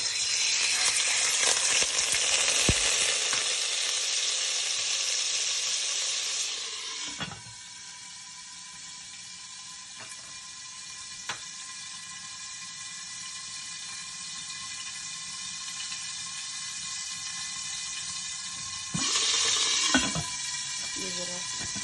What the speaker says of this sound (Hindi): अब इसमें मैं ऐड करती हूँ लहसुन और ये अदरक का पेस्ट।